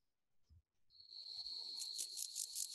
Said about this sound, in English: Oops, that's the grasshopper again.